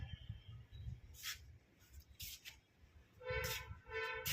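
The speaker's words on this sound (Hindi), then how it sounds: "इसका हॉर्न की आवाज़ मेरे कानों में आ रही है" A train sounds its horn in two faint, distant blasts, the second longer and fuller. Soft rail rumble fills the background.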